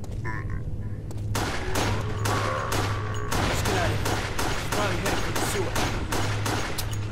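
Rapid, loud gunfire bursts from the video game Resident Evil: The Darkside Chronicles, with a steady volley of shots over a constant game background hum.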